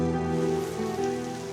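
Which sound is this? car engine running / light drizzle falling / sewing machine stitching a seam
light drizzle falling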